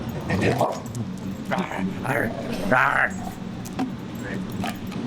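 A dog gives a few short yips and whimpers close by, mixed with jangling and voices talking over it.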